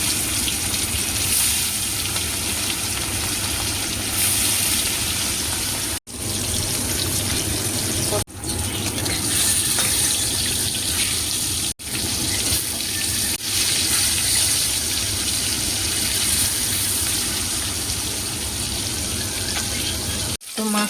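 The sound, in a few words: catla fish frying in hot oil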